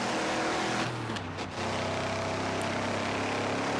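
Race car engine in a racing video game, a continuous loud whining drone with shifting pitch and a brief dip mid-way, with no voices.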